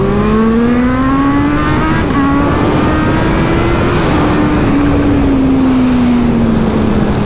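Yamaha MT-10 and Kawasaki Z H2 motorcycles accelerating hard from a race start, a loud, close engine whine climbing in pitch through gear changes, sustained throughout with no talk.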